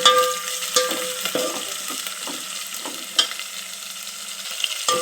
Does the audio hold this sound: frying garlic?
yes